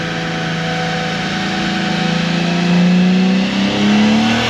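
An LS7-powered Z28 Camaro runs hard at wide open throttle, its engine note rising steadily and loudly in pitch as it climbs through the revs, close and continuous without any talk.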